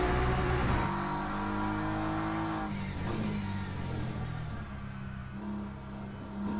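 A BMW race car in a Le Mans racing video game roars continuously, its engine note rising and falling through gear changes with brief tire squeal, loud and close, with no talking.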